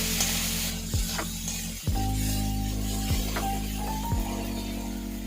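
Onion and tomato frying in a pan, a steady close sizzle broken by a few thuds and scrapes of stirring, no voices.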